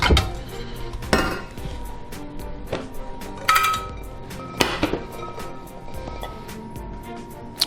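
Metal pans are handled in a Creole home kitchen while a smaller pan is swapped in for cooking garlic in oil. Several close, ringing clanks and clinks of cookware sound over a steady kitchen background.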